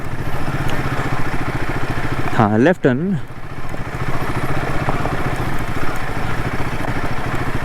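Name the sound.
vehicle engine braking in second gear downhill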